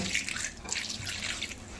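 Water is poured into a pot over chopped elephant foot yam to cook it for a white sadya-style avial, a quiet splashing trickle lasting under two seconds with no talk.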